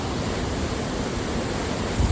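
A fast-flowing waterfall on a hiking trail near the Tajikistan–Uzbekistan border gives a constant, dense roar, steady and fairly loud throughout, with a slight low thump at the very end.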